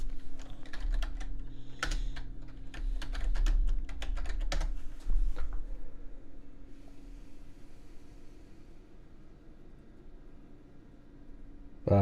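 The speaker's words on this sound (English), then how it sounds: "Let me type that in." Typing on a computer keyboard: quick, irregular clicks of keys for about five seconds over a steady low hum, then the tapping stops and only faint background noise remains.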